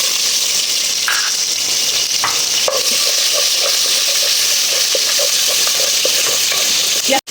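Whole garam masala spices sizzle steadily in hot oil in a pan for meat khichuri, a loud continuous frying hiss with small crackling pops throughout, cutting off abruptly at the end.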